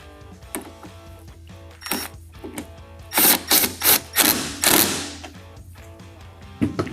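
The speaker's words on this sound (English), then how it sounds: "we can tighten that down with a 10mm." Ratchet with a 10mm socket tightening a factory bolt while mounting an Oracle flush-mount LED tail light, giving a series of short clicking bursts that grow louder and quicker in the middle before tapering off, with no voices.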